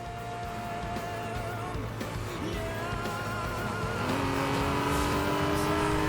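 An Aston Martin V12 Vantage engine droning in the racing game Need for Speed: Most Wanted (2012), a steady, loud engine note whose pitch climbs as the car accelerates, with continuous road noise beneath.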